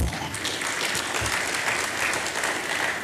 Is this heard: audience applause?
yes